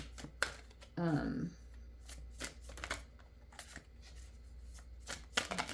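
Tarot cards shuffled and drawn by hand: a short, dense riffle of card shuffling near the start, then soft, intermittent snaps and slides as cards are handled and laid out, close and fairly quiet.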